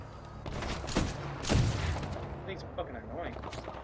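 Gunfire in the shooter game Titanfall 2, with scattered shots and thuds in a busy battle mix, peaking near the middle, while a voice talks faintly toward the end.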